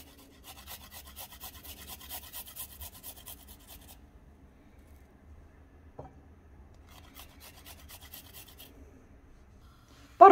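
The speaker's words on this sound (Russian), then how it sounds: "И сюда же на этой же терке тру чеснок." Garlic rubbed against a hand grater in a kitchen, giving a soft rasping scrape in two bursts with a quiet gap between them, and a brief clatter at the end.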